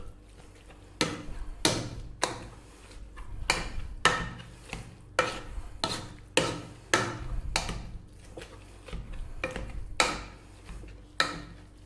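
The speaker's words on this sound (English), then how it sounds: "again we're going to mash that just for another minute or so" Vegetables mashed with butter and black pepper for a Sunday roast or Christmas dinner side, a steady run of sharp thumping masher strikes, roughly one each second, close and fairly loud with no talking.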